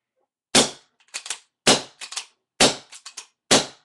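Four sharp, loud shots from a gas-powered S6 airsoft gun, each crack followed by a quick pair of softer mechanical clicks, evenly spaced with nothing else heard.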